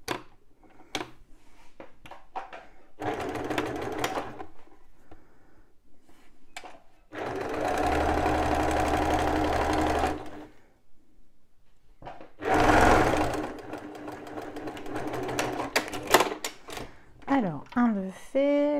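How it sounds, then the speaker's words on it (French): A sewing machine stitching piping edge to edge onto a cotton fabric piece for a backpack, running in several separate bursts of steady mechanical whirring with pauses in between while someone talks. "je viens les coudre bord à bord sur ma pièce de coton"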